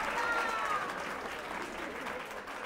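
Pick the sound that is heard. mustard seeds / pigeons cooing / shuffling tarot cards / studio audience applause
studio audience applause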